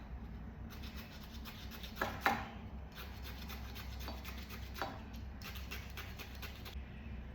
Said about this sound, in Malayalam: കുറച്ച് പച്ചമുളക് അരിഞ്ഞിടാ.